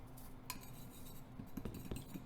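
A utensil clinks and scrapes against a dish while garlic and herb seasoning is mixed into a cornmeal, salt and pepper coating for bullfrog. The scrapes are quiet and close, with a few light taps, and no one speaks.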